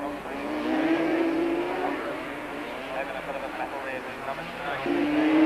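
Two racing quad bikes fight for fourth position at a South African Super Series race in 1997, their engines making a continuous buzzing drone that rises and falls. A commentator talks over the noise throughout.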